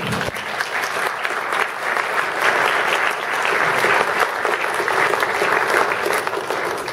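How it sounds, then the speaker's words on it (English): A steady round of audience applause at a TTC customer service town hall at York University in Toronto, even and sustained from a moderately distant crowd. "please rise if you're able so that we can give a round of applause"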